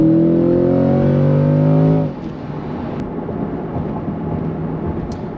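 A C8 Corvette in track mode gives a loud, close engine rev blip. The harmonic engine tone holds for about two seconds, then drops sharply into a lower rumble of road and engine noise.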